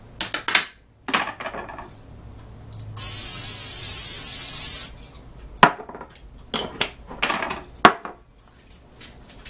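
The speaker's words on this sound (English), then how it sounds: "I am actually going to spray my pan." A steady, hissing burst of cooking spray onto a pan lasts about two seconds, set between clinks and knocks of pans and utensils nearby.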